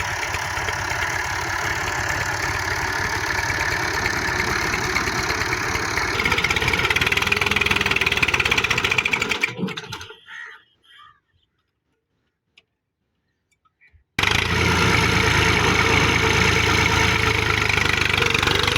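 A Massey Ferguson 240 tractor engine labouring under load while pulling an 11-tine plough, loud steady chugging that cuts to near silence for a few seconds before the running engine returns just as loud.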